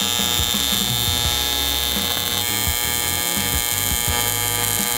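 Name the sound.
welding on the Hoonicorn car rebuild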